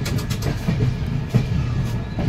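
A train runs through Malipur station without stopping, heard from on board as a loud, close, continuous rumble with rhythmic wheel clatter.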